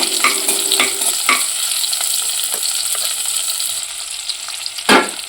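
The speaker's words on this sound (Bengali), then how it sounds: "এবার এই যে বাটা রাঁধুনি মশলাটা সব দিয়ে দিচ্ছি। এবার এটা ভালো করে ভাজা ভাজা করবো।" A ground radhuni spice paste fries in a pan with pumpkin, chili and black cumin. A steady, close sizzle runs under intermittent clinks and scrapes from stirring, and a sharper scrape comes near the end, with no voices.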